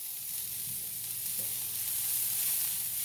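Onions sizzling in a pan while cooking for a crustless spinach quiche, a steady close hiss of frying with a few faint clinks and no talk.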